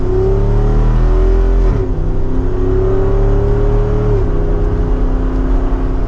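A 2024 Jeep Wrangler Rubicon 392's V8 engine roars steadily as the SUV accelerates from second gear on the road, rising in pitch with a brief dip at each gear change, loud and close from inside.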